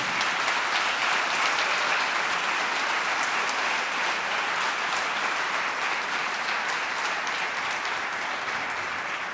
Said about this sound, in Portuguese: let's give the Lord a mighty hand of applause as we start